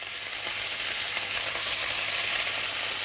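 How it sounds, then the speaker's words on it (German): Pork medallions searing in a hot frying pan, a steady close hiss and crackle of sizzling fat with light stirring, no talk. "Die Schweinsmedaillon braten sie noch kurz scharf an."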